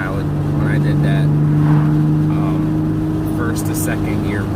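A fast car with a loud aftermarket exhaust pulling hard from first into second gear, a steady, close, heavy drone with a rising rasp as it accelerates, heard from inside the cabin.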